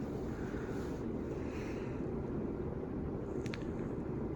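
A Hunter IntelliTouch ceiling fan runs in reverse, churning air in a steady, loud, broadband whoosh with a low rumble, constant for the whole stretch.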